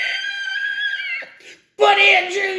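A person imitating a screech with a shrill, strained, high vocal wail held for over a second, a brief pause, then a second louder screech.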